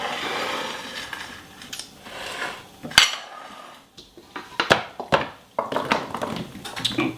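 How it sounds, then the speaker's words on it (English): Glass Pyrex baking dishes clink and scrape close by on a kitchen counter, with a sharp knock, then a run of uneven clatters and rubbing as they are moved and filled. "I'm going to take this in 2 Pyrex dishes"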